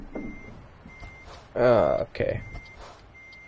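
A truck's reversing beeper in American Truck Simulator, a steady string of evenly spaced high beeps running through the clip, with someone briefly speaking over it in the middle.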